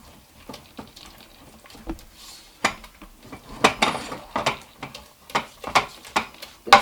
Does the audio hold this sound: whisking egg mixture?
yes